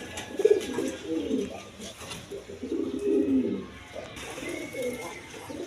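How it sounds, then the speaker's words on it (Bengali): A pair of Gorra pigeons coo repeatedly in soft, rolling phrases, each a throaty burst of about a second, close by at a pigeon seller's with faint background noise. "এইখানে এক পেয়ার গররা কবুতর আছে দেখেন"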